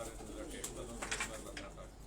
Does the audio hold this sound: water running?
no